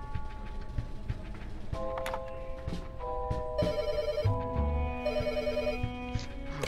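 A payphone rings in the horror video game Luggage, two clear electronic ring bursts following each other over a faint background ambience.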